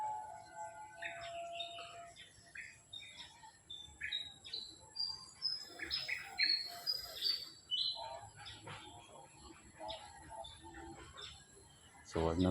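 A mother bird chirps near a nest holding two baby birds, giving thin, high, brief tweets in scattered bursts, faint over quiet outdoor ambience, with a low voice murmuring beneath.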